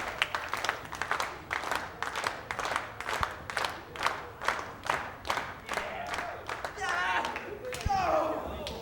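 An indoor wrestling crowd claps in a steady rhythmic beat, each clap evenly spaced, then breaks into louder cheering and shouts near the end, with a commentator talking over it.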